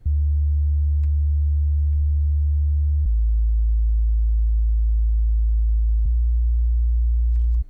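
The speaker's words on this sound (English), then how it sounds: "we can add a sub bass from a synthesizer like we have here" Deep synthesizer sub bass for epic orchestral music, a steady, loud, pure low tone held in three long sustained notes, stepping down in pitch, with no other sounds.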